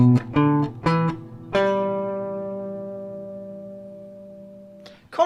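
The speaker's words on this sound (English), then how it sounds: "In its basic one-octave form, this sounds like this." Clean guitar plays a short one-octave major blues scale run of single notes, the last one ringing out and slowly fading, followed by a faint pluck at the end.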